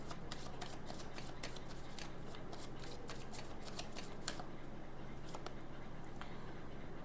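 Oracle cards shuffled by hand in a steady run of crisp riffling flicks and soft slaps, close and fairly quiet over a low background hum, with no talking.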